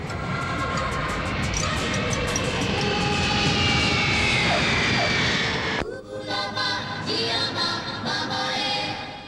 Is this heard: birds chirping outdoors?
no